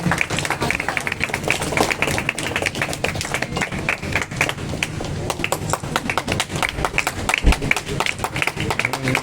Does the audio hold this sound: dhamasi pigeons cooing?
no